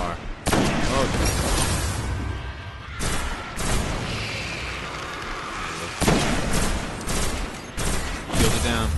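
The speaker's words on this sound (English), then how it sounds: "Gosh, he's shooting me." Enemy gunfire in Destiny on a moon mission, dense volleys and booming blasts crackling loudly in repeated bursts, with a player talking over the shooting.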